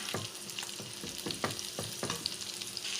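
Close sizzling of mushrooms frying in a pan, with a rhythmic series of stirring scrapes and knocks.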